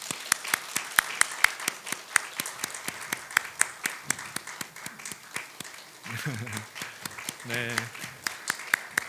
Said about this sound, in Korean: 우리 같이 하나님께 영광의 박수 올리고 축하하도록 하겠습니다.